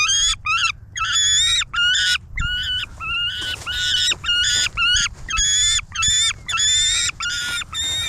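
Several pigeons brought along for training call in a loud, close, repeated series of honking coos, each lasting under a second with short gaps, steady for about eight seconds with no talk.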